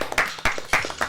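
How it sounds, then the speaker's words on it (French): Scattered hand claps from a small audience on a French game show, a few irregular sharp bursts close together, with no speech. "Ça applaudit aussi à Nantes, j'aime beaucoup."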